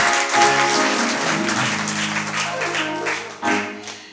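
A church congregation claps together in a sustained burst of applause, loud and close throughout, with a sustained tone running underneath and a fresh surge of clapping near the end.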